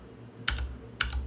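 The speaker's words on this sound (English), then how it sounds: "try and press tab" Two sharp key presses on a computer keyboard, each a crisp click with a brief rattle, spaced about half a second apart over a faint low hum; the tab key is tapped while testing a Rust GUI.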